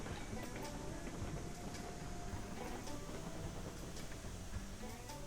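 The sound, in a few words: steam train running in Railroads Online video game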